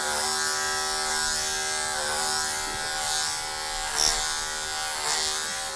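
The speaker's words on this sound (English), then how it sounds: "Just keep running the comb attachment and clip it over." Electric clippers fitted with a comb attachment buzz steadily and close up while trimming a Labradoodle puppy's coat, the hum rising and dipping slightly as the blade passes over the hair.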